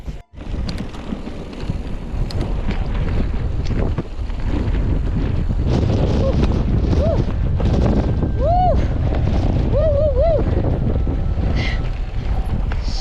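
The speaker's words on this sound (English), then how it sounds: "the wind is really messing with him" Strong wind roars and buffets the microphone on an exposed mountain ridge trail, loud and constant throughout. Faint voices and a few thin, high chirping sounds come through the gusts.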